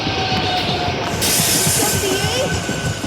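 Saltwater 5 rail cars of a train passing near Elkins, a close rumbling roll of wheels with rhythmic clacking and a faint squeal, steady and fairly loud.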